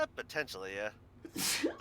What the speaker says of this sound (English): You sneeze.